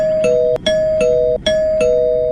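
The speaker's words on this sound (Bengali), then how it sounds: "তখনই তার কলিং বেলটা বেজে উঠল।" An electronic doorbell rings a repeated ding-dong chime, loud and close, several times in quick succession with no talking.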